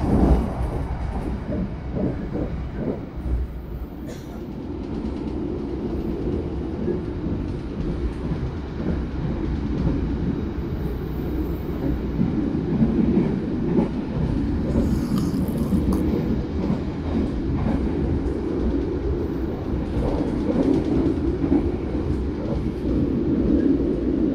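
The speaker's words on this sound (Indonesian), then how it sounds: "menyusul satu kereta dan berpapasan dengan satu kereta" Trains rumble past on the rails at night, heard from aboard the Turangga train between Surabaya and Bandung, a long steady clatter of wheels with occasional squeals and metallic rattles, loud throughout.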